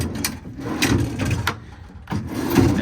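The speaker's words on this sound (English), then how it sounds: "Inside this driver 2 compartment, another large set of dual lock drawers." Dual lock drawers in the driver-side compartment of a 2015 International 4400 service truck slide and latch, making a series of sharp clacks and rolling scrapes in uneven rhythm, close and fairly loud, with no talking.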